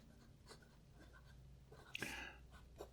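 A Jinhao X159 fountain pen with a fine nib scratches softly across paper in short, quiet strokes, with a sharper scrape near the end.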